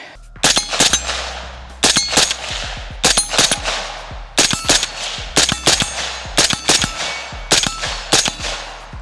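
Suppressed AR-style rifle or SBR fired into a berm at an outdoor range: about ten sharp, muffled reports in quick bursts of two or three, each with a metallic clack from the action, fairly loud and close, with no talking.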